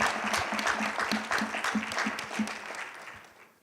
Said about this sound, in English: can you also kindly give yourselves a round of applause?